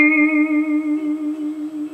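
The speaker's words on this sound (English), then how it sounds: "If you like that sound, you know, that vibrato sound like this" A single sustained note on a hardtail Telecaster electric guitar, wavering with steady hand vibrato, clear and close, ringing alone for about two seconds.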